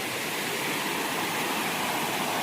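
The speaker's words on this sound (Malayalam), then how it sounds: "ആ പുഴയൊഴുകുന്ന സൗണ്ട് കേൾക്കുന്നില്ലേ?" A shallow village river with a strong current rushes in a dense, even wash of flowing water, steady and close with no breaks or voices.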